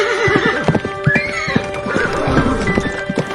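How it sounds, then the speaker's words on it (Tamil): Horse hooves clip-clop in a quick irregular rhythm close by, with a horse neighing over them. "ஒரு குதிரையோட குளம்படி சத்தம் அவ காதுல கேக்குது"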